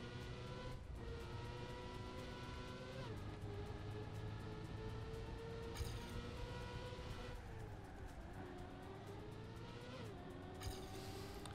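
Race car engine in the Trackmania video game revving steadily through laps on a Woodland Park track, pitch rising and dropping with gear shifts, loud and continuous with no talking.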